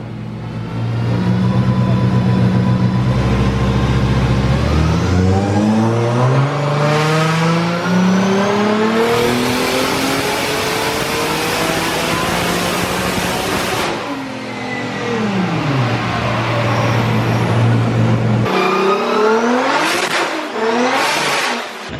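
A Nissan 370Z Formula Drift car's engine revs hard and repeatedly, rising and falling in pitch through several loud throttle blips and sustained high-rev pulls, close by with no talking.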